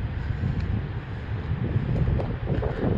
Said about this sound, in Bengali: প্রচন্ড পরিমাণে বাতাস